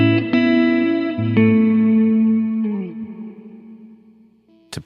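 Electric guitar notes played through a Big Sky reverb pedal, a few picked chords ringing out with long shimmering sustain and a washed reverb tail that slowly fades, ending with a short sharp note.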